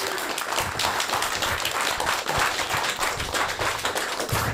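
An audience at a live comedy show at the 2023 Chunky Fringe claps throughout, a dense, steady crackle of many hands that never pauses.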